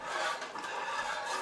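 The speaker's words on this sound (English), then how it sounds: "it says after you add the milk, whisking to incorporate, which I'm whisking, I whisk" A whisk stirring mac and cheese sauce just after the milk goes in, a soft continuous scraping swish against the pot, quiet and close with no voices.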